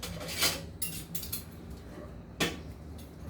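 Two spoons scooping thick brigadeiro filling, giving a few soft metallic clinks and scrapes at irregular intervals, close and fairly quiet, with no talking.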